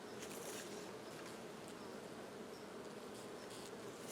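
Honeybees at an open hive during fall mite treatment, a dense steady buzz of many insects, close and continuous throughout with no talking.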